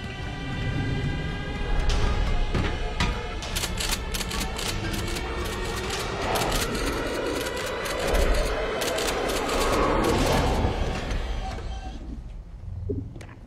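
Gunfire rattles through a futuristic Robocop action scene, bursts of rapid cracks layered over a dense, loud mix of impacts and effects that runs throughout.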